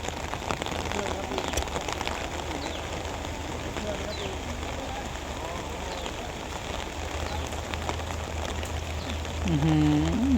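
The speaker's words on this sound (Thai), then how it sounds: "มาแบบ ท่ามกลางสายฝนเลยว้าว" Steady rain patters across the whole stretch, a dense hiss of drops on surfaces, with faint voices underneath and a brief rumble near the end.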